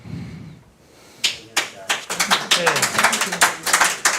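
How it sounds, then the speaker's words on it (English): Scattered clapping from a small crowd at a board of directors meeting that swells into steady applause after a brief murmur. "I appreciate the clapping."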